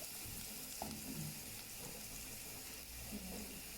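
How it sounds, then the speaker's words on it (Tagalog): Broth for Arabic mulukhiyah sautés in a pan with a faint, steady sizzle and a few soft clinks, quiet and without talk. "nagigisa na po natin yung sabaw na ating malagyan"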